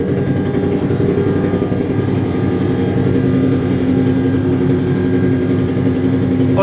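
A Class 66 diesel locomotive's engine room: a loud, steady engine drone with a strong low hum and rumble that stays constant throughout, heard from inside the room with no talk.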